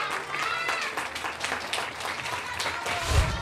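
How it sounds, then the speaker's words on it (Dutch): Studio audience applause for a child on a Dutch children's TV show, steady crowd clapping throughout with a brief thump near the end. "Applaus voor Ivano"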